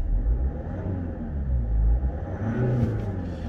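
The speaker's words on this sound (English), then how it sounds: "I'll give it a very quick rev, as we always do." A 2011 Land Rover Freelander 2 HSE TD4 2.2 diesel with a manual gearbox and 138,000 miles is revved briefly, its engine rumbling deep and close with a rise and fall, and nobody speaks.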